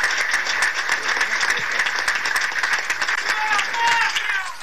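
An audience of Partido Justicialista supporters applauds after a political speech by N. Kirchner, steady dense clapping throughout, fairly loud, with crowd noise beneath.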